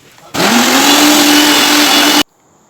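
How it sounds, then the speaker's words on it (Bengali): An electric mixer grinder whirs loudly and steadily as it blends an aloe vera hair pack, its motor holding a constant pitch for about two seconds before stopping abruptly into near silence. "তো এবার এটা আমি মিক্সিতে পিষে নেব।"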